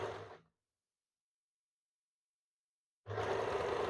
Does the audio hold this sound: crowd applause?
no